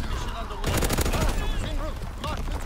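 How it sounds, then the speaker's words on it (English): An artillery battery fires in a video game: a loud, dense burst of rapid booming shots rolls through the middle, then trails off under an electronic hum. "Firing primary battery."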